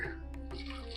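Hot water splashes and trickles steadily into a cooking pot for a moment, a short continuous pour with a faint hum in the background.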